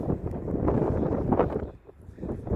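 Wind gusting through trees on a college campus, a loud rushing roar with microphone buffeting that swells and briefly dips before rising again.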